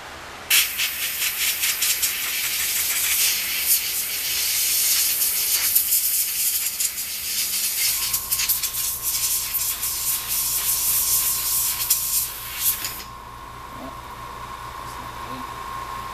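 Compressed air blasts dust off a freshly sprayed red and clear-coated paint job, a loud, steady broadband hiss running for several seconds before cutting off, with a faint humming tone underneath.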